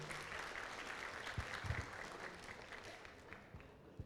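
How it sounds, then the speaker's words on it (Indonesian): Applause from a large gathering at an Islamic religious lecture, a steady wash of clapping with a few louder claps, fairly faint and distant, easing toward the end. "Beri tepuk tangan yang meriah untuk kita semuanya."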